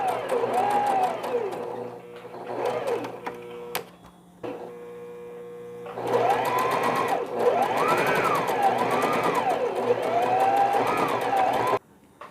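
A sewing machine stitches the side openings of a small frock for a newborn baby, running in steady bursts with brief pauses and a low mains hum between runs, fairly close and loud with no talk.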